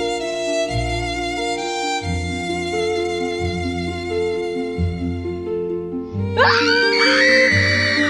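A woman lets out a terrified, rising scream in a radio drama, bursting in loudly near the end over sustained dramatic music.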